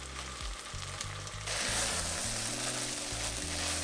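Butter sizzling in a hot pan while cooking bele rice bath, a soft crackle that swells into a steady, dense frying hiss partway through, close and constant, with a low hum underneath and no talking.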